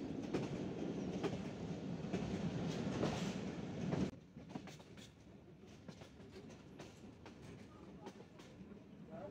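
The Sirajganj Express rolls along the line from Sirajganj toward Dhaka on a foggy morning, its wheels clattering in a heavy rumble that drops to a softer, steady rhythmic clack after about four seconds.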